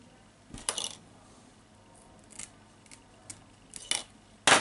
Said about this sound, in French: je vais essayer de couper avec la pince coupante